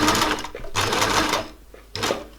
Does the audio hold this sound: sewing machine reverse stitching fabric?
yes